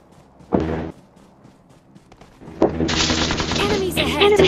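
Gunfire in an online shooter match: a single sharp burst early on, a short lull, then sustained rapid automatic fire and overlapping shots, loud and close, while players talk over the shooting.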